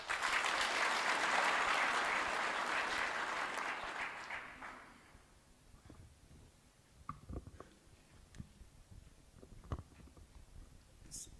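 Applause from an audience at a security mission ceremony in Kenya, strong steady clapping for about four seconds that fades out, followed by quiet room noise with a few faint scattered knocks.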